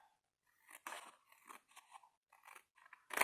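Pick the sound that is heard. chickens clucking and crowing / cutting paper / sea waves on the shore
cutting paper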